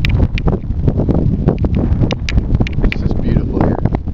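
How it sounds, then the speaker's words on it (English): Strong mountain wind at Blue Lake in Colorado's San Isabel National Forest buffets the microphone in loud, rough gusts that continue throughout while someone talks over it. "I don't know if you can hear any of this because the damn wind is beating the shit out of everything"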